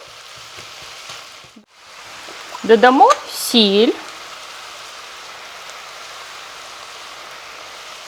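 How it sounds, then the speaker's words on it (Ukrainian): Minced meat filling for stuffed peppers sizzling and frying in a pan, a steady soft hiss throughout with brief louder bursts, while a person speaks briefly over it. "Підсмажуємо приблизно хвилин 5, щоб він став коричневого кольору."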